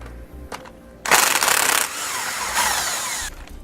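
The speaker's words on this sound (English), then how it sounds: "So I'm using a 13mm socket to remove those." Ratchet or power tool driving a 13mm socket on sway bar axle bracket bolts of a 2015 Ford E-Series Cutaway, a brief click then two sustained loud whirring bursts close by, with no talk.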